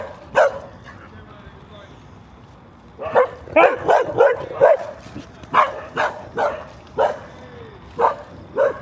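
Dogs barking at night in a cemetery in Kuala Lumpur, a burst of barks near the start then a run of repeated yaps and barks close by, with a voice shouting among them.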